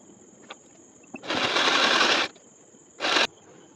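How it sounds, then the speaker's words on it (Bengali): A sewing machine stitches a blouse along a marked line in two bursts of rapid, close mechanical whirring, one long and one short, separated by a quiet pause with a few faint clicks. "যেভাবে দাগ দিয়েছি সেইভাবে আমি সেলাই করে নেব"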